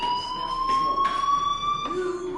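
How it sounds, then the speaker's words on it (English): A fire alarm in Life is Strange sounds a continuous, piercing electronic tone at steady loudness, with brief bursts of background noise around it. "do you hear that fire alarm?"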